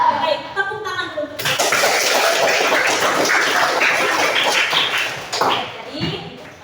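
A classroom of students bursts into applause, a dense, loud wash of clapping hands that lasts about four seconds before stopping abruptly.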